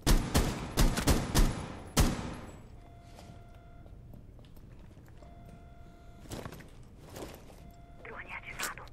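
Rainbow Six Siege gunfire cracks out in a rapid, loud burst of close shots, then goes quiet before a few more scattered shots follow. A player's voice talks faintly underneath.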